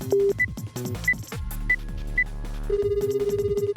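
A phone in the video game Virtue's Last Reward, dialed to 5309, rings with short repeated electronic beeps over tonal game music, then gives a longer rapid trilling ring near the end. The ring is clear and fairly close, with no speech.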